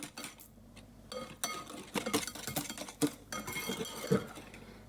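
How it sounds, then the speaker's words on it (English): A whisk clatters in a bowl of eggs, sugar and cornstarch, with quick, uneven metallic taps and clinks close by that keep going throughout. "Whisk until smooth,"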